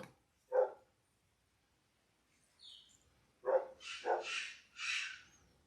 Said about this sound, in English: you could hear the dogs are outside barking